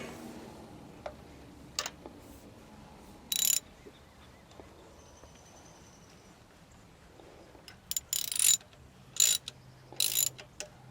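A ratchet tightens a spark plug on a 2005 Kia Rio, giving short bursts of rapid clicking: one early burst, then several quick bursts near the end over a quiet background.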